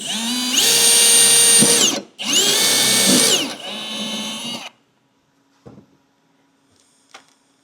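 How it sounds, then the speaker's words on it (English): A power drill whirs loudly in two long bursts and then a shorter third run, drilling a rivet hole for a Ski-Doo running board brace, followed by quiet with a few faint clicks and taps. "I can go ahead and easily drill out this second hole here"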